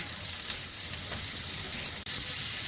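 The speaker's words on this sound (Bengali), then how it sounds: "আমি এবার জিরে গুঁড়ো দিচ্ছি।" Potatoes sizzle steadily in hot oil in a home kitchen as cumin powder goes in, a dense continuous frying hiss with a brief dip and a faint stir, no voices.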